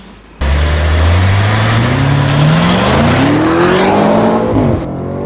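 A new BMW M5 in all-wheel drive mode launching and accelerating hard, engine pitch climbing steadily through the revs for several seconds, loud and close, then cutting off abruptly.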